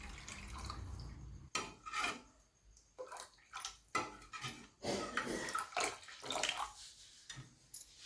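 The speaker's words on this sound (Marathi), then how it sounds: "याच्यात अजून मी थोडं पाणी घालते दोन चमचे" Water splashes and trickles into a pot of tomato soup in short bursts, mixed with clinks of a spoon and utensils against metal.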